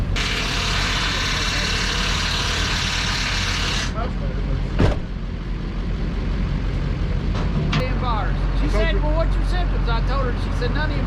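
Big Mama's grinder engine runs with a loud, steady hiss-laden roar that cuts off abruptly, leaving a low idling rumble beneath scattered clanks and thumps.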